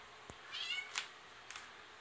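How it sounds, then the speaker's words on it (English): A faint kitten meows a few times in the background, soft and distant, with a couple of light clicks and knocks nearby. "I'm sure you can hear our kitten in the background."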